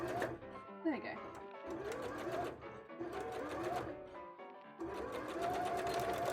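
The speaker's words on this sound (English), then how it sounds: "If it actually sews, then I can sew it pretty neatly without it being pinned" A sewing machine stitches fabric for a small, fragile bra in steady bursts of rapid mechanical clatter, pausing briefly between runs, with light talk and handling noise mixed in.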